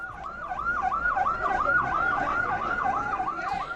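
An ambulance siren wails in a steady rising-and-falling two-tone cycle, loud and close with road noise beneath, in a town near Quetta, Pakistan, as the wounded from bomb blasts are rushed to hospital.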